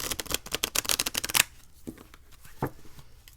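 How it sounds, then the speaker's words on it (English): A Sacred India Tarot deck of thick cardstock being shuffled, a rapid run of crisp riffling card snaps for about a second and a half, followed by a few softer, isolated card taps and slides close by. "So let's give it a shuffle, and then we'll pick one and take a look at the guidebook."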